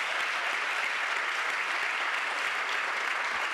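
An audience at a school district's State of Schools address breaks into steady, dense applause, a broad even wash of clapping heard from a distance that holds at a constant level.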